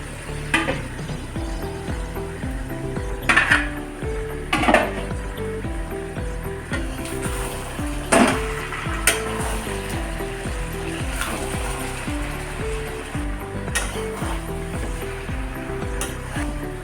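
Jackfruit curry cooking in a covered pan over a low gas flame, giving a steady soft sizzle broken by scattered scraping clicks and knocks close by.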